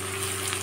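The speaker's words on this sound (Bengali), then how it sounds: "পেঁয়াজ ভাজতে ভাজতে দিয়ে দেব কুচিয়ে রাখা কেটে রাখা" Chopped onions sizzle and fry in a pan for chili chicken, a steady close hiss of frying in oil with faint stirring, no talk.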